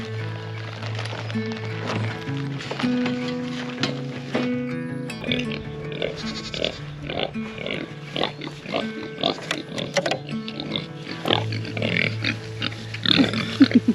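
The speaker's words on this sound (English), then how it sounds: "Hey pigs." Pigs on a homestead grunt and oink repeatedly, close and lively, with shuffling and rustling around them as they move about.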